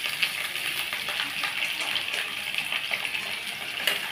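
Potatoes frying in hot oil for a vegetarian dum aloo, a steady close hiss and crackle that runs without a break.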